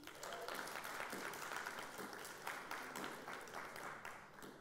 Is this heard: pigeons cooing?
no